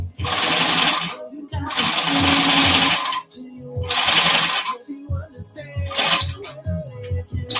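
Loud walking-foot sewing machine stitching durable material in bursts of fast, heavy mechanical chattering, close up, with pauses between runs and someone talking during the gaps.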